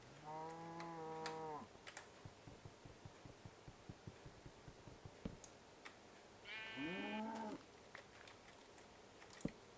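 Sheep bleating in a Minecraft-style video game: two clear, wavering bleats at start and later, over a steady run of soft clicking and tapping noises.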